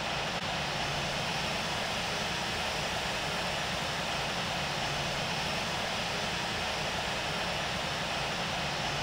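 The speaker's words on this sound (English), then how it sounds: "Alright, starting up engine 1." An aircraft engine spins up in the Infinite Flight video game, a steady, loud, dense roar that holds unchanged for several seconds with no voices over it.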